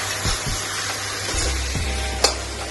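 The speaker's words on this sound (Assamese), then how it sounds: "এয়া কোমোৰা জালিকণ ভাজি লৈছো।" Pumpkin greens fry in a pan with a steady, close sizzle and soft stirring scrapes, then a single sharp clink near the end; no one speaks.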